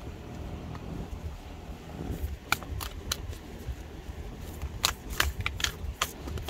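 A tarot card deck being shuffled up close, with a run of crisp riffling clicks and snaps that start about midway and come in quick bursts over a low, steady background hiss.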